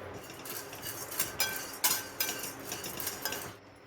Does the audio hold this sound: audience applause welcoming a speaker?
no